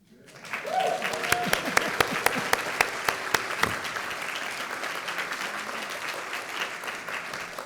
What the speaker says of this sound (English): Can we clap for Debbie?